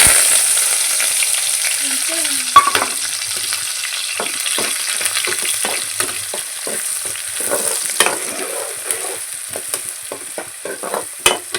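Chopped onion and green chilli sizzling in hot oil in a pan with cloves and curry leaves, a steady close frying hiss broken by frequent scraping stirs.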